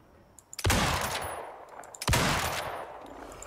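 Gunfire in the Icarus survival game, two loud, close rifle shots about one and a half seconds apart, each ringing out in a long reverberant tail over quiet outdoor ambience.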